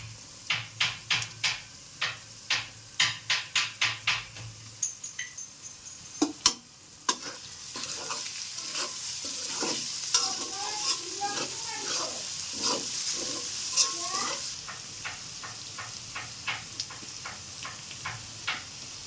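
Chicken stir-fried with yardlong beans for fried rice makes a run of sharp metal spatula clanks against the pan, then a softer sizzle with scattered scraping strikes. The cooking is close and moderately loud, with no talk over it.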